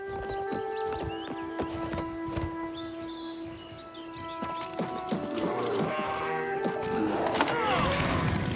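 Horse hooves clip-clopping in the video game Oblivion Remastered, a steady run of hoofbeats alone at moderate volume, getting busier and louder toward the end with other game sounds.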